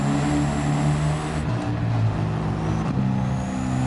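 Mercedes-Benz Unimog engine in Gran Turismo 7 racing near 150 km/h, a steady loud droning roar with a brief dip and change in pitch partway through as gears shift, no voices.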